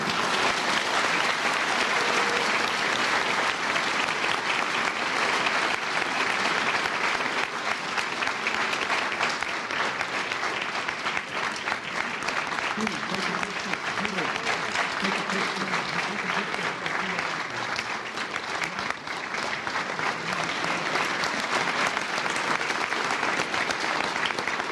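A large audience at a university graduation ceremony applauds continuously for more than twenty seconds, a dense, even wash of clapping with faint voices mixed in.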